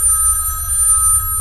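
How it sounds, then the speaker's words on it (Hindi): A telephone bell rings steadily and close, a bright continuous trill filling the moment without any voices. "अचानक फोन की घंटी बजी।"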